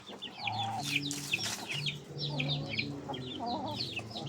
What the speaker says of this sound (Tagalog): Mga malaki yung manok niya.